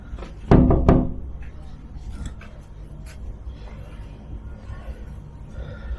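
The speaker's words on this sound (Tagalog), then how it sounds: "Ito na, katok na tayo." Knocks land on a hotel room door in Hoi An, Vietnam: a quick cluster of two or three loud, close raps near the start, then quieter room ambience with faint movement.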